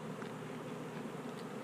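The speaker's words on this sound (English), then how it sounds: "Let's get these bees open." Honey bees from a package being installed into a hive fill the air with a steady, dense buzzing hum, fairly even and continuous throughout with no voices.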